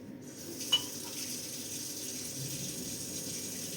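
Water runs steadily from a tap into a sink, a constant close wash of splashing flow lasting throughout with one brief clink near the start and no talk.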